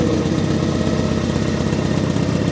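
A Porsche engine running at a show right after starting on a weak battery, a steady loud close idle with an even pulsing rumble, no talk.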